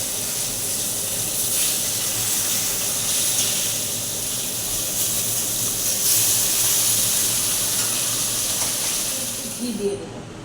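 Salted, turmeric-coated fish heads sizzle in oil in a kadai, a steady loud hiss and spatter that runs unbroken through the whole stretch, with a brief clatter near the end.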